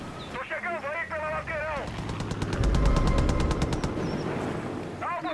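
Rapid bursts of automatic gunfire in the video game Far Cry 5, played on PS5, rattling loudly and steadily for a couple of seconds amid game radio chatter and other in-game voices.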